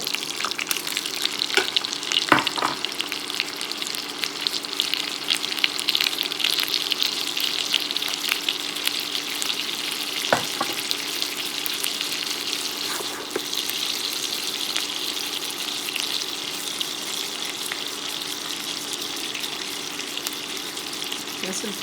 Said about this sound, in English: I'm going to go ahead and place the shrimp in the skillet.